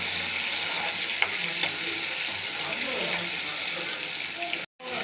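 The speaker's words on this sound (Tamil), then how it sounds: "எல்லாத்தையும் நல்லா கலந்து நல்லா வதக்கிக்கிடலாம்." Onion, tomato, mustard seeds and fenugreek sautéing in hot oil, with a steady, close sizzle and faint stirring scrapes throughout, cutting out briefly near the end.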